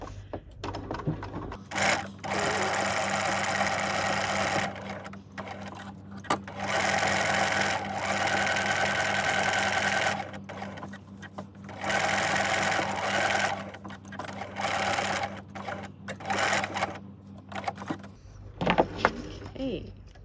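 Domestic sewing machine running a straight stitch at 3.5 mm length, in several close bursts of steady motor whirring separated by short pauses, with a faint low hum underneath.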